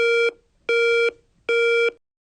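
Three identical electronic tones from the outdoor station of a TC:Bus intercom with a BVS25 controller, each a steady beep of about half a second separated by short even gaps, clear and close.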